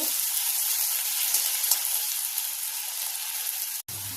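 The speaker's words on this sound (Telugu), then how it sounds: "కలుపుకుంటూ ఫ్రై చేసుకుంటూ ఉండాలి." Potato pieces frying in oil while being stirred, a steady close sizzle running without pause until it cuts out sharply near the end.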